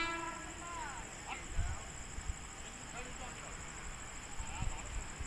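A train rumbles in the distance over a steady high-pitched hum, with faint clanks and a brief horn-like tone near the start.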